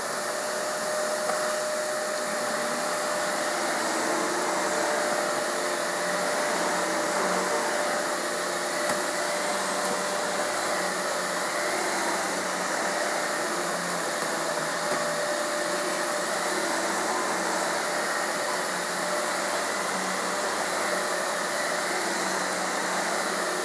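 A red and blue Kenmore Progressive vacuum cleaner runs steadily and loudly throughout, a constant broadband whoosh with a faint motor whine and no pauses or talking.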